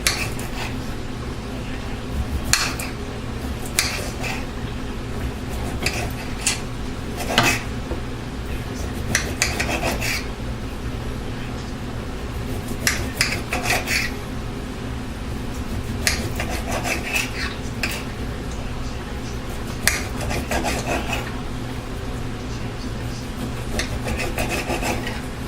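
A knife working through raw London broil steak for teriyaki, repeated rasping strokes and scraping on a board with occasional utensil clinks, steady and close, with a little faint talk.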